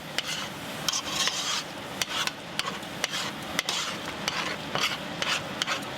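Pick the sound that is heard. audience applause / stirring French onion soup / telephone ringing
stirring French onion soup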